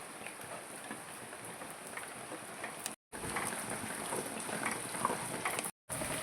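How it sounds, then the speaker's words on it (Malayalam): Steady rain falls outside a home kitchen, a continuous soft hiss with no voices, interrupted by two brief gaps of silence. "മഴയൊക്കെ കാണുവാണേ."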